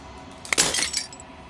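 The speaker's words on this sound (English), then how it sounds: "As a final fragment of glass shatters" Glass shatters in the video game Slay The Princess, a single sharp crash followed by a brief tinkling spray of shards over a quiet background.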